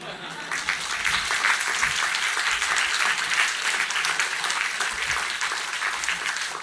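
Audience applause at an art lecture on Singapore art, a dense, sustained round of clapping from a sizable crowd in a hall, loud and even before easing slightly.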